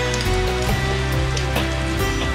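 Steady rain pours down in a continuous dense wash, loud and close throughout, with no one speaking.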